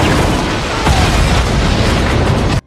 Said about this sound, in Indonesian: mobil itu tancap gas ke arah kantor polisi yang mengakibatkan terjadinya ledakan besar